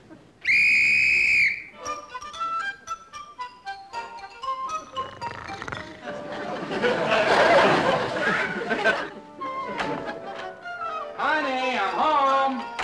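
A single shrill whistle blast of about a second is blown to wake someone, loud and close. Chattering voices and laughter follow.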